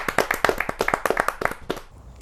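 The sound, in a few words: applause for a poet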